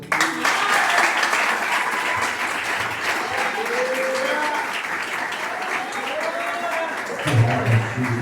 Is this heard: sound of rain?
no